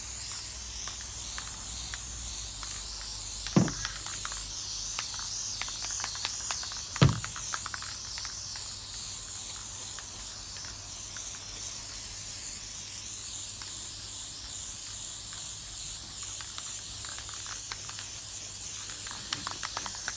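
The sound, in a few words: spraying Plasti Dip coat onto hockey helmet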